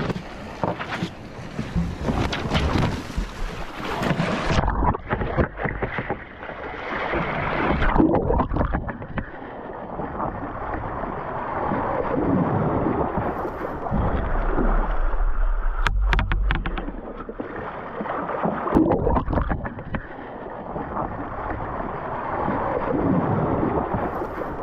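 Wind and sea noise on board a Vendée Globe racing sailboat offshore in a moderate 12-knot breeze, a steady broadband rush with low buffeting gusts and water wash, loud and continuous throughout with no talk.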